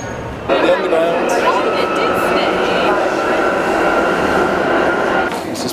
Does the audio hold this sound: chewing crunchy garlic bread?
no